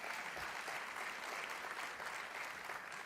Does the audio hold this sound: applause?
yes